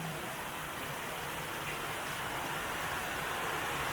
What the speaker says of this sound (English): she's raining like cats and dogs at present.